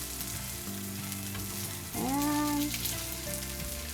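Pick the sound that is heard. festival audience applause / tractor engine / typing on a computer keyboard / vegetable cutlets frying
vegetable cutlets frying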